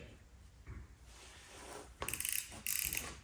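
An OLFA snap-off utility knife has its blade slider loosened, repositioned and the dull segment snapped off. Soft handling noise gives way to two sharp bursts of ratcheting clicks near the end.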